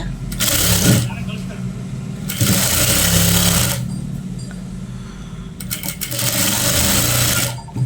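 A tailor's sewing machine runs in three fast stitching bursts on a uniform shirt, a loud close whirring chatter separated by short pauses while someone talks.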